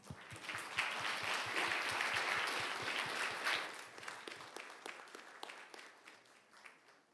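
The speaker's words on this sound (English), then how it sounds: "Please give Ms. Lee Sang-hee, Mr. Jo Jun-hui, and Mr. Seo Man-bok another round of applause" Award ceremony audience giving a round of applause at the 2024 IVI-SK Bioscience Park MahnHoon Award, a full crowd clapping loudly at first, then thinning into scattered individual claps that fade toward the end.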